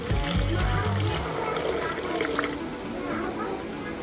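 Water is poured over cut pandan leaves in a kitchen, a steady close splashing and trickling that continues throughout beneath background noise.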